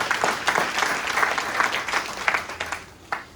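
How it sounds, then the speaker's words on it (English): A church congregation gives a clap offering, with lively, sustained applause that thins toward the end into a few scattered final claps. "Can somebody give the Lord a clap offering this morning?"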